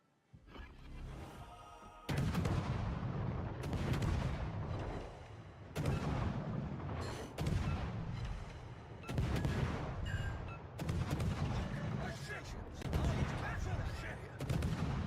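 Heavy torpedo impacts and explosions batter a warship during a naval battle video game, arriving as repeated loud booming bursts every second or two with rumbling decay between hits.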